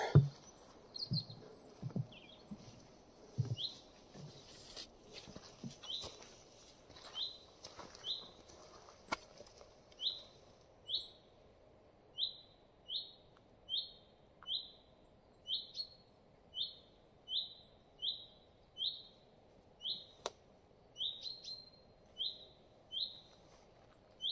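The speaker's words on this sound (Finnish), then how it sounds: "Linnut vislaa. Se on mukava." Birds chirp in a steady repeating series of short, bright calls, one every second or so, with faint rustling and footsteps early on.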